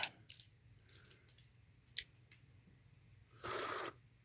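Snips cutting a miniature giant figure part off a plastic sprue, a series of short sharp clicks spaced about half a second apart, ending with a longer scraping rustle, quiet and close.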